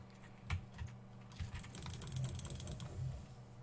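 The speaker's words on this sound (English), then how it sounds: "You typing." Rapid keyboard typing at a computer during a late-night Portal 2 co-op gaming session, a continuous run of clicky keystrokes in varied rhythm, close and moderately loud, with no talking.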